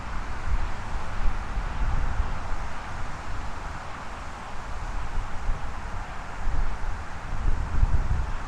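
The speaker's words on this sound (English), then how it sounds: "as we get close to Ceasar Bay, it is going to get much windier" Wind gusting across the South Brooklyn waterfront near Ceasar's Bay, a loud continuous roar and buffeting rumble on the microphone that rises and falls in waves, with no voices.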